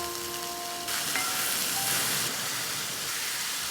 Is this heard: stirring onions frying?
yes